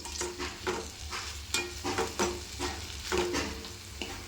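Coriander leaves sauté in a pan, a soft sizzle under repeated rhythmic scrapes and clacks of a spatula stirring, close and quiet with no talk.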